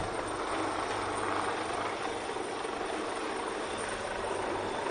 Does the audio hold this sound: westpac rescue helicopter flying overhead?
yes